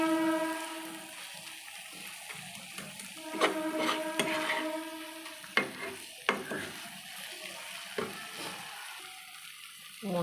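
Masala spices fry and get stirred in hot oil while a Bengali spicy fish curry cooks, giving a steady low sizzle with scattered sharp scrapes and clinks of the spoon, close by and fairly quiet with no talking.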